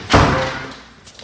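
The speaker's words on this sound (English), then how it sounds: "Shut this door." A room door in a house being pushed shut during a dog training session with a German Shorthaired Pointer, giving one close, solid thud that fades into a quiet room.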